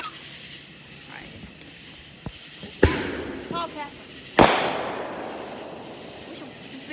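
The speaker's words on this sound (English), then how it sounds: "Videotape those fireworks over there." Fireworks and firecrackers go off outdoors at night near water, giving two sharp loud bangs with crackling tails plus a few smaller pops, while people talk nearby.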